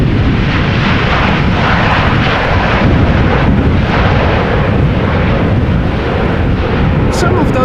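A Boeing 787-9 Dreamliner jet roars loudly and continuously at Amsterdam Schiphol Airport during Storm Pia, the engine noise thick with heavy wind rumble.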